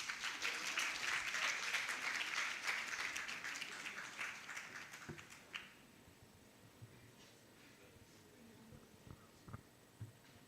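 Applause at a regional conference closing ceremony, a dense, fairly faint crowd clapping that fades after about five seconds into a quiet room with a few scattered claps and small knocks.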